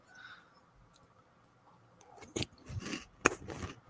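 A big spoonful of crunchy food is bitten and chewed, a few sharp crisp crunches near the end after quiet, close and fairly faint.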